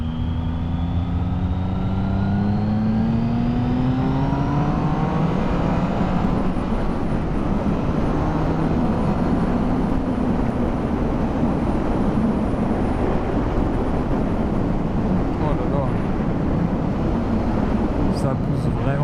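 A 2016 Triumph Speed Triple S accelerates hard on a damp road, its engine note climbing steadily before dissolving into a loud, continuous rush of wind and engine roar.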